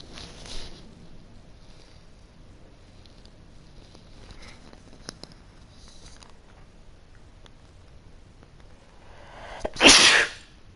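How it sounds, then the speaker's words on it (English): One loud sneeze erupts near the end after a stretch of quiet room noise with faint clicks and soft shuffling. "Well, I sneeze pretty loud."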